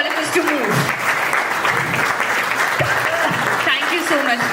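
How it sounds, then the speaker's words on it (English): Audience applause for someone speaker at a TEDx salon event, a steady dense wash of clapping from a large crowd filling the room, sustained loud throughout with faint voices mixed in underneath. "give her a round of applause"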